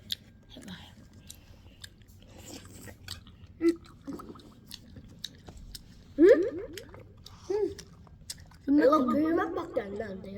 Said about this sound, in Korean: 저 한번 먹어볼게요